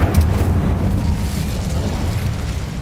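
The Incendio fire spell firing in Hogwarts Legacy, a loud, rumbling burst of flame that holds as a heavy, sustained boom with a crackling roar throughout.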